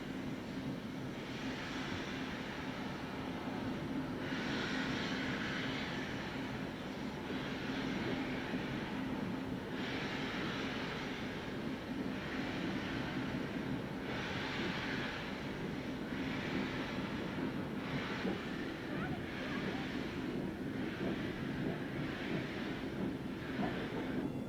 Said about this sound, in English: The sound of trucks and wagons which were simply chained together rather than precisely coupled.